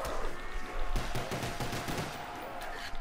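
Pistol fire in Call of Duty Black Ops Zombies on the Ascension map: a loud, steady run of punchy game gunshots over a busy background din, with no talking.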